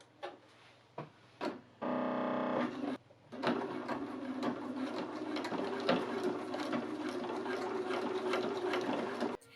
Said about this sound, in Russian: Стачиваю на швейной машинке, делая закрепки в начале и конце строчки.